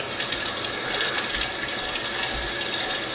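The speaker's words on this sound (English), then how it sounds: "Just run that under running water" A brush is rinsed under a running tap, giving a steady, close rush of water that flows evenly for about three seconds with no voices.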